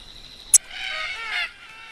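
Australian cockatoos call at an evening watering hole: a sharp click, then a single harsh, raspy screech lasting under a second, fairly close and alone.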